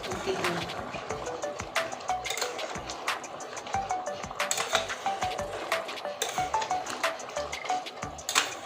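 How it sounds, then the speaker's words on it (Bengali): Taro curry being stirred in a pot, with light clinks and scrapes of a spoon against metal at irregular intervals over a soft background. "এবার গাঠির কচুটা দেখুন ফুটে গিয়েছে এবার নেড়ে নিচ্ছি"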